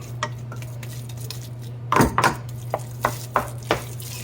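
A spoon scrapes and clanks against a pot as mukimo, a Kenyan mash, is stirred, giving a few distinct knocks and scrapes over a faint sizzle, close and clear with no talking.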